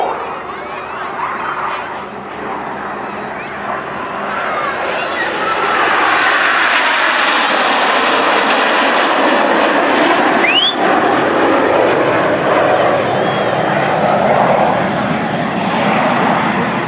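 Red Arrows jets fly overhead at an airshow with a loud, sustained roar that swells after a few seconds and holds steady, over a faint crowd.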